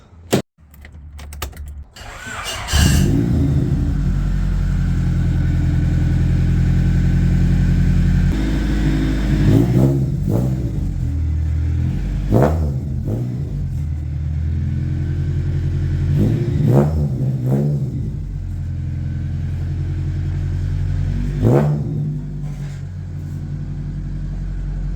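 A Honda Civic EF with a B16 engine, Kanjo JDM build, revving and pulling through gears on a drive, heard from inside the car: steady loud engine drone with repeated rising rev sweeps and shift breaks, no talking.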